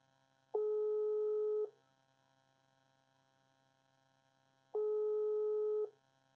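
Outgoing WhatsApp video call ringing tone, two steady electronic tone bursts about a second long with a pause of roughly three seconds between them, heard alone over a faint hum.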